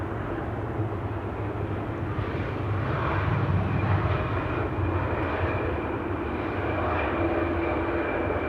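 A KLM Embraer 175 arrives at Schiphol, its jet engines a loud, steady roar that swells slightly in the middle and continues throughout with no voices.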